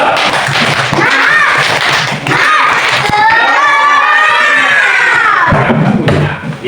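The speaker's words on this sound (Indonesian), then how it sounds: "sebelum itu kita tepuk semangat dulu" A primary school class does a spirit clapping chant, tepuk semangat: children shouting rhythmically in unison with sharp claps and thumps, loud and close, filling nearly seven seconds before trailing off.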